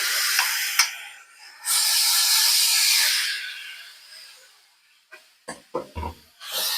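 Pork hits a hot frying pan with a loud, close hiss that surges, holds for a couple of seconds and fades, followed by a few short bursts of sizzling and clatter.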